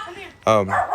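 A dog gives a single short bark at close range, loud and sharp, over a quiet background.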